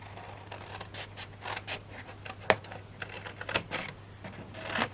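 Scissors snip a wedge out of craft card in a series of quiet, close, crisp cuts and rustles, with a few sharper clicks, no voices.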